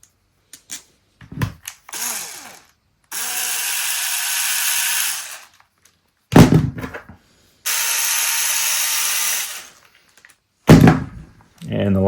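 Stainless 3x16 button head bolts driven into a Traxxas Slash 2WD RC car with a power driver, two long steady whirring runs separated by handling clatter and knocks, with brief talk in between.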